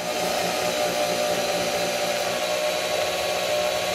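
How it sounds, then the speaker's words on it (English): A power drill bores into a wooden wall stud while a towel rack is being installed, giving a loud, steady, unbroken whirring roar that fills the whole stretch with no talking. "let's go ahead and start drilling that"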